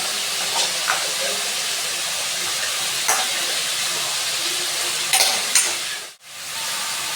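Continuous loud frying hiss from potatoes cooking in oil, with occasional spatula scrapes and clicks and a brief dropout near the end.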